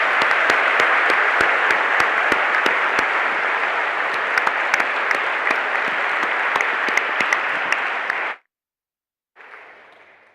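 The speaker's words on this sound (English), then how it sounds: "So let's have a quick clap for them too." A graduation ceremony audience claps steadily for absent graduates, a dense, even round of hall applause with a few sharp near claps, ending abruptly and followed by a faint reverberant tail.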